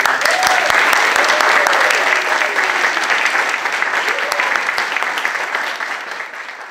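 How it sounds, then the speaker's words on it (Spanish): A church congregation gives loud, sustained applause for Jesus at the close of a service, a thick crowd of clapping with a few sharp individual claps and voices mixed in, slowly easing off. "Damos un fuerte aplauso a Jesús."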